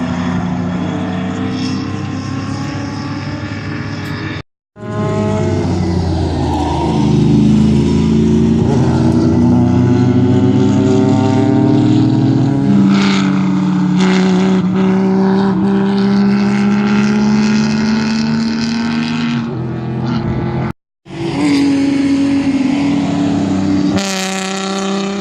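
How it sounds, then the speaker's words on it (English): A Nissan race car at an SCCA race roars loudly and continuously near the track, its engine pitch rising and falling through gear changes, with two brief gaps in the sound. "I swear that Nissan's so near the 103 decibel limit at this track."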